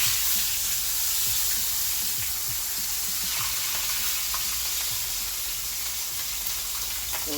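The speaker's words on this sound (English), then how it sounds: "Let him fry in there" Fish frying in a pan on a stove, a constant dense sizzle and crackle of hot oil filling the whole stretch, loud and close.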